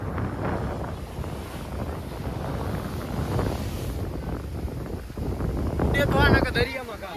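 Wind gusting steadily across the microphone at Porbandar Chowpatty beach, with a rumbling rush that swells toward the end, voices faintly audible beneath.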